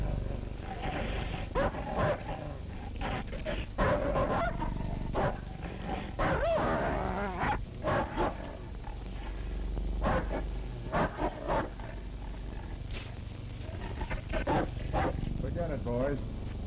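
A dog in a 1935 film barks and growls in repeated sharp bursts amid loud, busy scene noise, with people talking over much of it.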